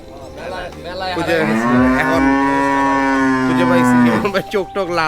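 Cattle on a farm lowing in a long, loud, close moo that swells and holds for a few seconds, with people chatting nearby before and after.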